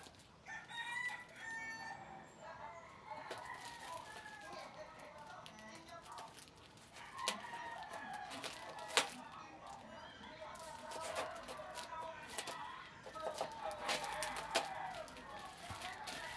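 A rooster crows repeatedly through a small speaker used as a bird call, with clucking fowl calls in between and a person talking faintly over it.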